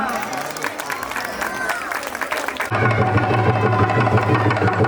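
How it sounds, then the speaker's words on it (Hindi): Audience applause and crowd noise at a Ramlila drama performance by a dramatic club in Kartarpur, loud clapping mixed with voices, then a sustained droning tone as the clapping continues. "तालियों के साथ"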